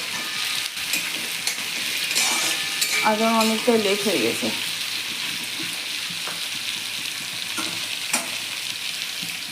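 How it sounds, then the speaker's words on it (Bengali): Onion, garlic, green chilli and tomato fry in a pan, a steady close hiss and crackle running throughout, with a brief spoken remark and a short rising tonal squeal partway through. "এই যে ফ্রাই করে নিচ্ছি পেঁয়াজ, রসুন, কাঁচা লঙ্কা, টমেটো সবগুলোকে"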